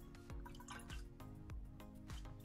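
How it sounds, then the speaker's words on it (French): Liquid glugging steadily out of an upturned litre container held with its opening up, a rhythmic series of soft gulping drips without splashing, quiet and close. "Vous mettez à l'envers et vous mettez l'ouverture en haut et vous faites couler."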